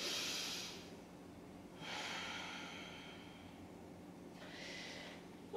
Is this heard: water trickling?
no